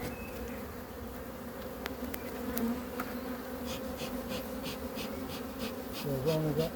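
Honey bees buzz continuously around an open hive while its frames are inspected, a dense steady drone close by, with brief handling noises near the end.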